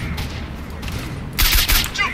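In S.T.A.L.K.E.R.: Shadow of Chernobyl, a low rumble gives way to a loud, sharp burst of rapid gunfire, a fusillade of close shots near the end of the moment.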